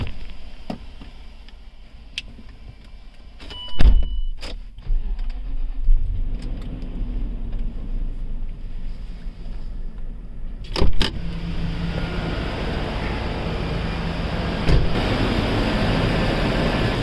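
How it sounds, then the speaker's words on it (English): A Range Rover Sport (L320) engine cranks and catches in the Las Vegas desert after a dead battery, then settles into a steady low idle rumble, with a few sharp clicks and thumps from inside. "now let's start up the car"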